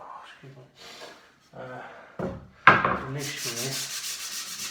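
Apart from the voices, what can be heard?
sanding wood with sandpaper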